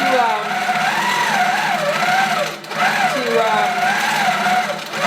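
A Coronet quilting machine sews with a loud, continuous motor whine whose pitch rises and falls as the fabric moves, dipping briefly near the middle.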